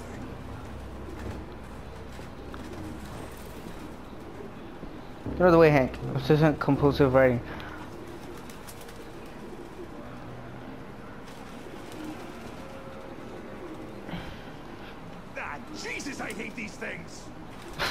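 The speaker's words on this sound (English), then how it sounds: "No human could live with all these fucking pigeons." Pigeons coo in a burst of several soft, throaty calls in a derelict room in Detroit Become Human, with a few more coos later, under quiet game ambience and spoken dialogue.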